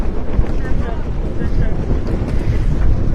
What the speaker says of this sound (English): I'm using a mic, but with all the wind going on.